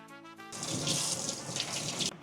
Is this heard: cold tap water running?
yes